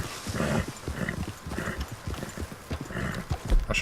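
Horse hooves clip-clop in a steady walking rhythm in the Red Dead Redemption 2 video game, moderately close and fairly quiet, with soft background ambience.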